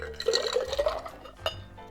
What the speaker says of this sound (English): Throw the ice in there, throw some water in there, dump it out when you're ready to use the glass.